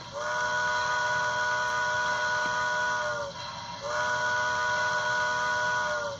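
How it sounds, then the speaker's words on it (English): Bachmann HO-scale ALCO 2-6-0 Mogul DCC sound locomotive in PRR 3233 livery blowing its steam whistle: a loud, steady multi-tone chime held for about three seconds, a brief break, then a second long blast. "F2 is whistle."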